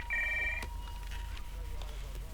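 Telephone ringing with a steady electronic bell tone, one short ring burst at the start that cuts off abruptly, followed by low background noise and faint distant sounds.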